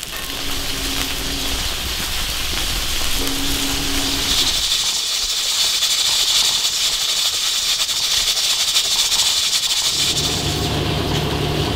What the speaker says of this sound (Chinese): 要把气泡完才能揭盖锅盖子啊